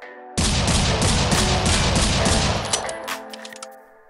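A Desert Eagle pistol in Critical Ops is fired in a rapid continuous string of loud, close shots with the trigger held down, then the bursts thin out and a ringing tail decays.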